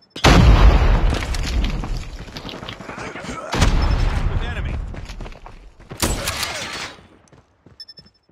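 A grenade explodes in a Call of Duty game with a heavy, loud boom, followed by more blasts and gunfire bursts, each one decaying into rumble, with in-game voice callouts mixed in.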